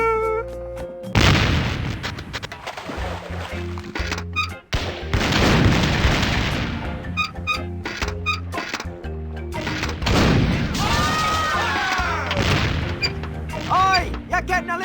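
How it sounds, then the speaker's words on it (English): A self-loading ship's cannon in the adventure game The Curse of Monkey Island booms with heavy thuds and mechanical clanks over game music, with character voices talking. "Hey, it's one of those new self-loading cannons I've heard so much about."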